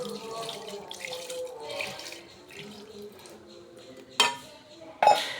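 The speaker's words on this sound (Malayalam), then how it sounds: "ഇനി ഞാൻ അതിലേക്ക് ആവശ്യമായ വെള്ളം ഒഴിക്കുകയാണ്" Water pours steadily into a pot with a soft, continuous splashing, followed near the end by two sharp metallic clanks.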